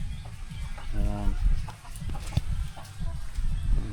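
Chickens cluck in a farmyard at feeding time alongside a turkey, a busy mix of short clucks and calls with a brief rooster-like harmonic call, over rustling and faint background voices.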